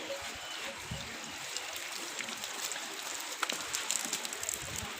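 Waterfall on the Kedarnath trek in Uttarakhand, a steady broadband rush of falling water close by, with scattered clicks and faint footsteps under it.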